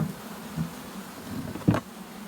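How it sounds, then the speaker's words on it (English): Honeybees hum around a nucleus colony during installation, a low steady buzz close by with a brief louder burst as one passes near. "It's kind of unnerving being around all these bees"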